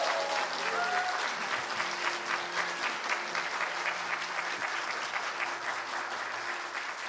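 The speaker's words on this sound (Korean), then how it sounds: "우리 감사의 표현으로 큰 환호와 함께 큰 박수 부탁드리겠습니다" Church congregation applauding with some cheering, a full, sustained burst of clapping from many hands with faint voices mixed in underneath.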